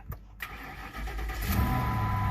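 A car engine cranks a few times and catches after a jump start from a pickup truck, then settles into a rising, steady idle up close.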